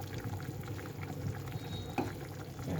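Pabda fish sizzling and bubbling steadily in a hot pan for a Bengali chorchori, a continuous frying hiss with one sharper crackle burst partway through.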